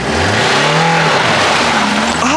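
A Toyota Corolla launches hard with its wheels spinning, the engine roaring loud and close as the revs climb steadily in pitch over a couple of seconds.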